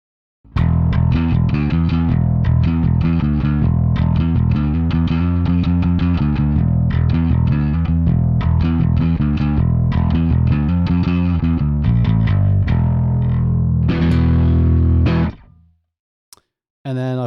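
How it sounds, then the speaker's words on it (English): Heavily distorted bass guitar riff through a pedal board with a Rat distortion pedal, thick fuzzy low end, played continuously and loud before stopping abruptly near the end. "I can have a distorted bass tone that has low end."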